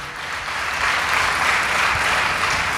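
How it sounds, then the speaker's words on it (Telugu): A church congregation at a Sunday worship service claps loudly, giving a dense, sustained applause that swells slightly and carries on for the whole stretch without any voices over it. "చప్పట్లు కొట్టండి గట్టిగా"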